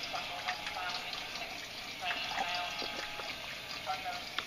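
Water trickling and splashing in a pipeless snail aquaponics tank running low on water, a fairly loud steady flow with small splashes.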